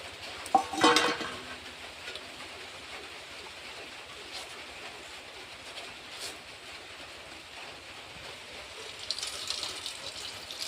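Juice is wrung by hand through a cloth from grated ash gourd (chal kumro), giving a faint, steady trickle and drip of liquid with a few brief handling clatters near the start.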